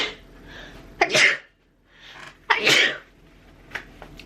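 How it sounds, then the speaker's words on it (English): Two sneezes from a tired, run-down person, each with a sharp intake and a bursting release, close and loud, with a smaller breathy sound trailing at the end. "I'm gonna sneeze."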